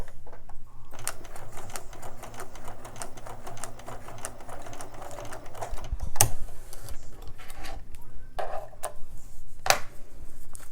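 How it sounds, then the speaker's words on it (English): A sewing machine stitches a short seam joining quilt pieces for a Halloween mug rug, running in a steady, fast mechanical patter throughout with a couple of sharp clicks near the end. "we can take it back over to the machine and sew that line between A2 and A3"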